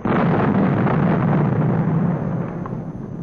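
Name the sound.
atomic bomb burst explosion in 1950 film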